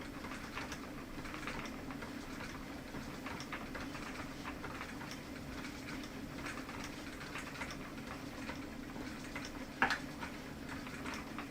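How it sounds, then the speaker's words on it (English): A wooden spinning wheel turns steadily while wool is spun, giving a soft continuous rhythmic whir with faint ticking, close by and alone, with one brief louder knock near the end. "Now you can just hear the wheel."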